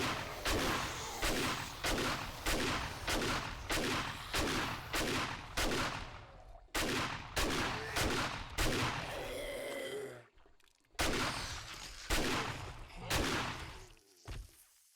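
Rapid, evenly spaced gunshots ring out as zombies are shot in the video game 7 Days To Die, loud and close, with a short pause near the end before a few more shots.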